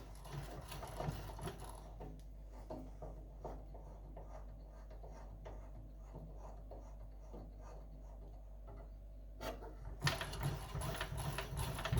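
A Wilesco D32 toy steam engine runs with a steady mechanical chugging and rapid ticking, close and fairly quiet, with a constant low hum underneath.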